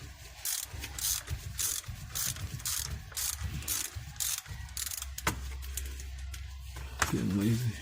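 Close ratchet clicking in rapid repeated strokes while breaking loose Loctite-locked inverted head bolts on the rear differential of a 2015 Cadillac ATS 2.5, with a couple of sharper metallic knocks near the end.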